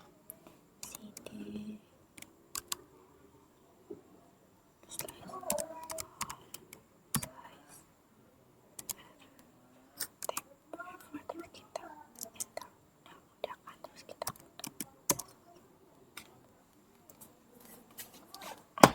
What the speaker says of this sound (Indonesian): Tadi kan saya ngetik CD home slash Reva.